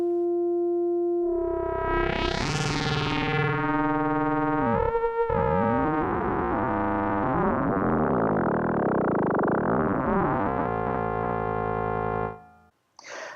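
A Moog Mother-32 synthesizer plays a patched sound through its patch bay: a loud sustained electronic tone that sweeps sharply upward and back, then warbles and bends through shifting pitches before cutting off abruptly.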